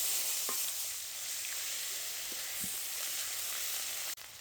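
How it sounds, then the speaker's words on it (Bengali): Cumin seeds and ground onion paste fry in hot oil left over from frying fish, giving a steady, fairly soft sizzle with a few light stirring clicks, cut off abruptly near the end. "মাছ ভাজা তেলে এখন আমি জিরে ফোড়ন দিয়ে দিচ্ছি। এখন জিরেটা আমার ভাজা হয়ে গেছে, এখন আমি জিরেকে দিয়ে দেবো পেঁয়াজ বাটা।"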